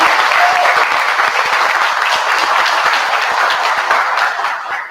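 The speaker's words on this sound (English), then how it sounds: "I want to give her a round of applause." Audience at a pitch competition event applauding steadily, a dense, loud wash of many hands clapping that holds for several seconds before easing off slightly at the end.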